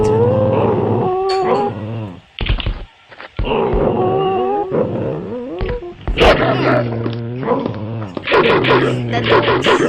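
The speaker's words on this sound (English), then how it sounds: "The dog stuck in glass and then dies." Dog whimpering and howling while stuck in glass in a Minecraft-style video game, loud, close, wavering whines and yelps that repeat through the clip, mixed with other game noises.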